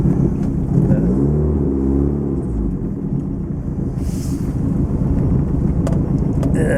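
Lotus Excel car on its first drive, with a close, low engine rumble and a clear rising then falling rev in the opening seconds, followed by steadier running with wind buffeting and faint cabin noises.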